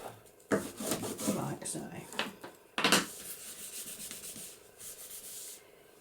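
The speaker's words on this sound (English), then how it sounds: "Burnish that down." Paper is burnished down by hand for a junk journal page, giving close, dry rubbing strokes in bursts of a second or two, with a brief spoken remark over it.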